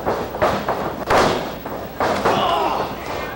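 In a wrestling ring, Eddie Edwards lands a big boot on Kurt Adonis's jaw, a heavy thud among several loud thumps and slams from the ring canvas, close and forceful, with a commentator's voice faint underneath.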